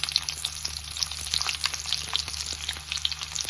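Onion hitting hot oil in a spiced tempering of cloves, cardamom, cinnamon and bay leaves for shahi paneer masala, giving a steady close crackling sizzle with no speech.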